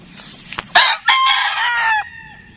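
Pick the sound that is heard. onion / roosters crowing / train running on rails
roosters crowing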